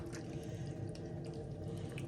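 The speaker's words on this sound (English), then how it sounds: "Now we're going to add water just because we need enough stock to cook our rice with as well." Water pours steadily into a pan of chicken liver cooking for fried rice, a continuous close splashing and running sound with faint sizzling beneath and no talking.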